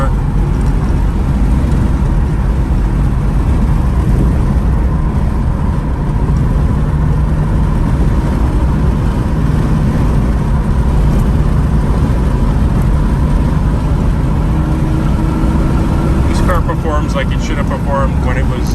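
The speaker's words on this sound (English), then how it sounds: "a little bit of a spirited ride in a 1988 Jaguar XJS" A 1988 Jaguar XJS TWR Tribute with a five-speed manual, heard from inside while driven briskly, its engine drone loud and steady beneath constant road rumble, with a brief rattle near the end.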